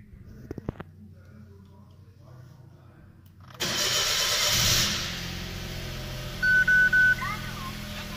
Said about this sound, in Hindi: तो चलिए आपको गाड़ी को स्टार्ट करके दिखाते हैं